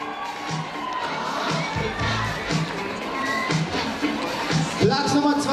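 Spectators at the finish area of the 2017 Sparkasse Marathon cheer and clap, with children's shouts mixed into a busy crowd din and people talking throughout.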